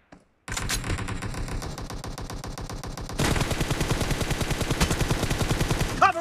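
Rapid automatic gunfire in the mobile shooter game BGMI, a loud sustained burst of rhythmic shots that grows heavier partway through, with no talking.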